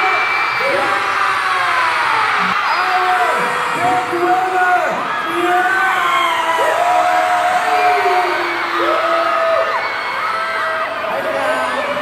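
A large studio audience at a Pinoy Big Brother event cheers, whoops and shouts continuously and loudly, with a host's amplified voice talking over the crowd noise throughout.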